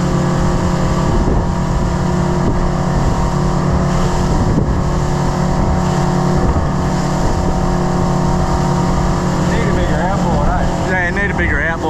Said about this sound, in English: Need a bigger outboard.